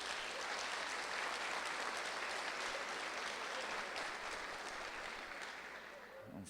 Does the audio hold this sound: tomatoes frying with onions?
no